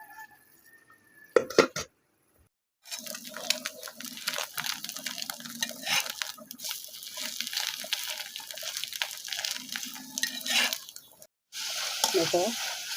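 Beef and potatoes cooking with spice paste in a pan in a village kitchen: a steady, close sizzle with some stirring clatter that stops briefly and then returns.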